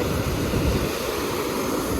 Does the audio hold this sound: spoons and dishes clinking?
no